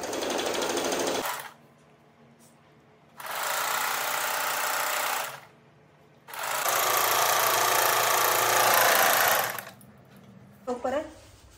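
A sewing machine stitches a pajama seam down toward the leg opening in three sustained, loud, even runs of rapid clatter separated by short pauses, ending with a brief voice-like sound.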